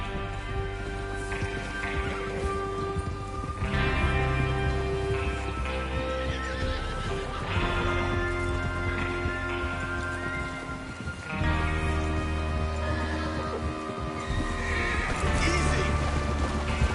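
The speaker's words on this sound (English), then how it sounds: "Get your horses ready." Horses neigh and whinny repeatedly over steady clip-clopping hooves in the Red Dead Redemption 2 video game, with game music and ambience running underneath, fairly loud throughout with no talking.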